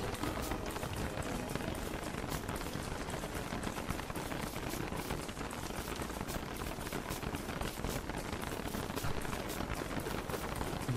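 Rain pours in the video game Don't Starve, a dense, loud, unbroken hiss of falling drops with no voices over it.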